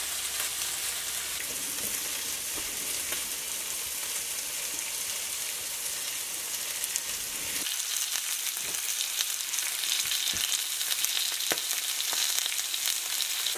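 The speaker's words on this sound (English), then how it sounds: "While the sausage and the bacon is cooking" A sausage patty and bacon fry in a pan, giving a steady crackling sizzle throughout with scattered sharper pops and spits in the second half.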